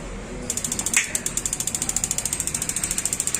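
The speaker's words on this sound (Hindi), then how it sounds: "लाइटर की आपको आवाज़ है, लाइटर आपको नज़र भी आ रहा होगा।" A gas geyser's lighter igniter sparks in a fast, regular train of sharp electric clicks, loud and close, starting after a brief mechanical clunk and repeating evenly with no speech.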